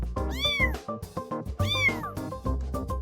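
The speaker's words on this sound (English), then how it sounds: "And from all over the warehouse, the meowing convinces." Cartoonish cat meows from videos playing on a tablet in the game DOS Kapital, two long rising-and-falling wails followed by shorter mews, loud and close with no talking.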